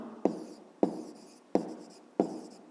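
Pen writing by hand on paper during a fifth-grade maths exercise: four separate scratchy strokes, each starting with a sharp tap and trailing off, close and fairly quiet with no talking.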